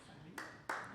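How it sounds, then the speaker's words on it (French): A tired audience gives a weak round of clapping, just two sparse, sharp claps in about a second over a quiet room. "Ça, madame, c'est une clap de monde fatigué."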